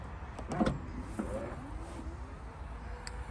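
The power trunk of a 2022 Tesla Model Y opens with a quiet motor whir and a few clicks and latch sounds, heard close up and fairly faint.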